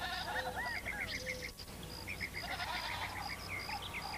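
Several goats bleat on a farm, a string of short wavering calls from more than one animal over a quiet outdoor background.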